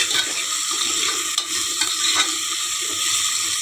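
Leaves frying in hot oil for paneer biryani, a steady, close sizzle with stirring scrapes running throughout, no voices.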